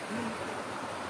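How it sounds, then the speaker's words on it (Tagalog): A wide river flows with a steady, soft broadband rush of water. The sound is faint and continuous, with no voices. "Malawak to. Ilog."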